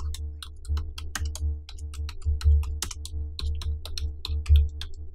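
Rapid, irregular keystrokes on a computer keyboard while typing text in Adobe After Effects, a steady run of close, crisp clicks with no speech.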